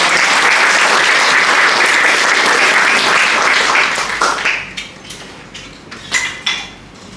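A group claps together at a nursing training demonstration: dense, loud applause for about four seconds that then thins to scattered, fading claps.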